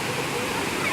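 A waterfall pours in an unbroken, broadband roar, heard close and fairly loud and filling the whole moment.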